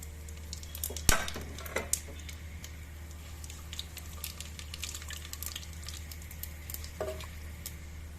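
Whole spices (bay leaf, cumin, cloves, cardamom, black pepper and cinnamon) hitting hot oil for Hyderabadi tahari, with a sharp burst of sizzle early on, then a softer steady crackle with a few scattered pops and a later flare.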